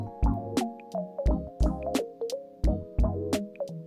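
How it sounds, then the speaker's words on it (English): Pudding mixture drips and plops as it is poured into muffin liners, a close, quiet series of wet, splashy drips with a ringing tone, repeating irregularly about every half second. "I'm gonna pour pudding mixture into this so they can go chill in the fridge."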